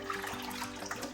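Crappie fish fillets being rinsed in water, a steady close wash of running, sloshing water over a short stretch with no talking.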